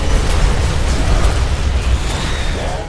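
A wall being destroyed by an explosion in The Riftbreaker, a loud, dense rumbling blast with crackling debris that holds steady throughout before easing slightly at the end.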